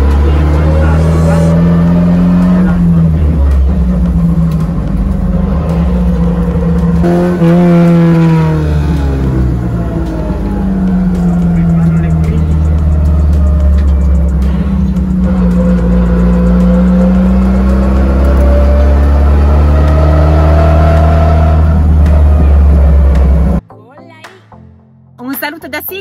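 Alfa Romeo cars lap the race track at the Alfa Romeo museum in Arese, engines droning and rising and falling in pitch as they rev, loud and close, with someone talking over them before the sound cuts off near the end.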